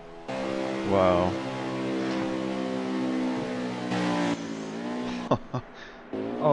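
Race cars in a racing game roaring loudly at high revs through the whole stretch, with a brief squealing skid near the start and engine surges later, under continuous excited commentary.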